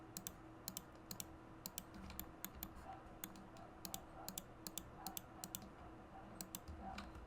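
A computer keyboard and mouse click softly during 3D modelling work, with quick, irregular taps in short bursts against a quiet background.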